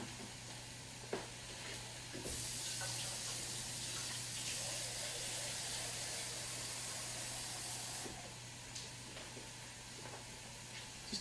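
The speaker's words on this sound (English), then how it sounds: "And we're going to add some water." Water pours into a pan with a steady hiss and sizzle for several seconds, starting and stopping abruptly against a low background hum.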